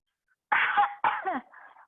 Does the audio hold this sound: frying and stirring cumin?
no